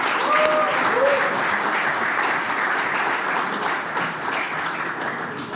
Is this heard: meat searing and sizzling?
no